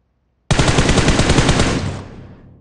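A loud, rapid burst of automatic gunfire in a video game erupts suddenly and rattles continuously for about a second and a half before fading out.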